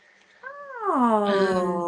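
A kitten gives a single drawn-out meow, rising then falling in pitch, close and fairly loud, with nothing else heard around it.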